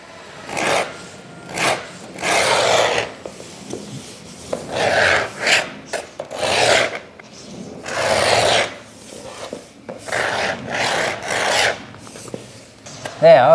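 A trammel point scoring a curved line into wood, heard as irregular scratchy rasping passes of varying length with short pauses between, close and moderately loud.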